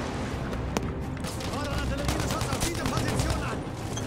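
MG42 machine gun fire in the Battlefield 5 video game, a loud dense fusillade of rapid gunshots with distant booms mixed in, continuous throughout the game's battle noise.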